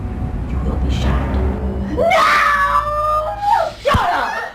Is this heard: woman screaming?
yes